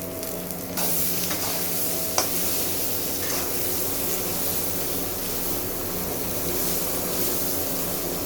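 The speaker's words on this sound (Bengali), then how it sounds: "সামান্য হলুদ দিয়ে দিলাম বেগুন ভাজা।" Thin eggplant strips fry in oil with salt and turmeric, giving a continuous crackling sizzle with stirring scrapes and a faint low hum underneath, close and steady.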